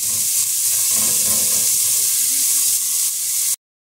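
Bacon frying in a pan for a dobradinha, a loud, close, continuous hissing sizzle that holds steady for several seconds before cutting off abruptly.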